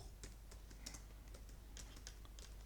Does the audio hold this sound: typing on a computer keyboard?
yes